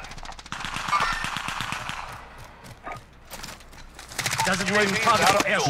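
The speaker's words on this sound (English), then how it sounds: "Enemy gunfire." Rapid bursts of game gunfire crackle in quick repeating runs, with a voice speaking briefly between the volleys and a denser burst near the end.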